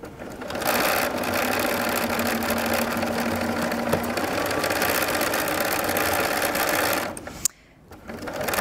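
A sewing machine stitches a half square triangle quilt block, running in a steady, close mechanical whir for about seven seconds before stopping with a short clunk.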